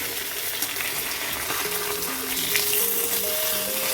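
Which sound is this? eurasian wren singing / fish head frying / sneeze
fish head frying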